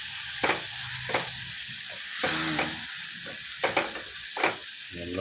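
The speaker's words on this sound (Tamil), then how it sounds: "இப்போ அழகாக மிக்ஸ் பண்ணி விட்டுடலாம்." Mutton liver gravy with garam masala is stirred in a pan, giving a steady sizzle and hiss under a series of spoon scrapes and taps spaced about a second apart.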